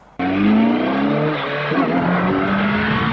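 A Kawasaki Z900 motorcycle engine roars loud and near as it revs up for a power wheelie, holding a strong sustained note that dips briefly and then climbs again.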